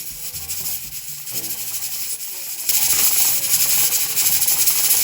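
Pressure cooker venting steam after the flame is turned off, a loud, steady close hiss that grows stronger partway through and carries on without pause, with no talking.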